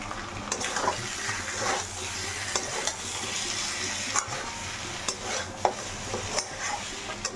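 Mutton being stirred and browned in a pan during curry cooking, with steady sizzling and scattered scrapes and clinks of a utensil against the pan, continuous and close throughout.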